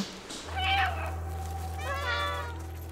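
A cartoonish cat character in the 2022 PC game Stray meows twice, two clear, close mews about a second and a half apart, over a low steady game background hum.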